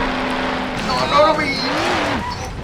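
Tuned car racing in the Mafia video game, its engine tone sweeping up and down through gear changes with a brief squeal, heard under game music and sound effects.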